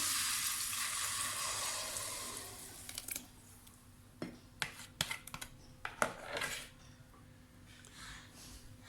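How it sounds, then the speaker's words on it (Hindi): Ground spinach dropped into a cup of hot oil in a pot on the stove, a loud sizzle at first that fades into quieter frying with scattered sharp clinks and scrapes of stirring. "ये पैन मैंने एक देचकी चूल्हे पर रख दी है और इसमें मैंने 1 कप ऑयल डालकर गरम कर दिया है। अब इसमें ये पिसा हुआ सारा पालक शामिल कर देंगे।"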